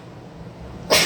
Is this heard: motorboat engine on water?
no